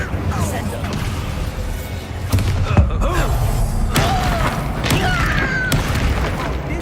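Spell effects from Hogwarts Legacy, Incendio fire and Descendo slam, burst as repeated booms and thuds over a continuous combat soundscape, with sharp impacts near the three-, four-, five- and six-second marks.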